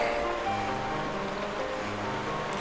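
Sewer water in the video game Twilight Princess flows in a steady, even rush of broadband noise that stays constant throughout, with no speech.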